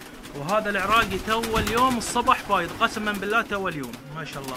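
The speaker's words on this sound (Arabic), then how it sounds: "اسمع صوت الطيور" Pigeons in a breeding loft coo nearby in soft, repeated throaty calls. Someone talks over them throughout.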